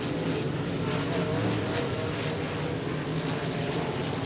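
Modified race cars roar around an oval track, a steady broadband engine drone heard from a distance without letting up.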